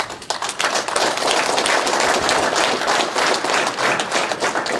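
Audience at a drag racing press conference claps together, a dense burst of applause from a roomful of people that stays steady for several seconds, close and fairly loud, with no speech over it.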